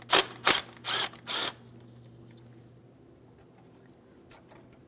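A 10mm mounting bolt on a brake flex hose bracket being removed from a 2007-2014 GMC Sierra 2500 HD; four loud, close, buzzing ratcheting bursts in quick succession, then quiet shop ambience.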